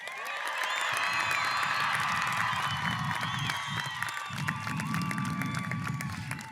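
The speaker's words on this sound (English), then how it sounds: "I want to hear the loudest noise and the loudest zaghrudas from the crowd" A large crowd at a high school graduation commencement ceremony cheering, whooping and ululating in loud zaghrudas, a sustained roar of shrill trilling voices and applause that swells and carries on for several seconds.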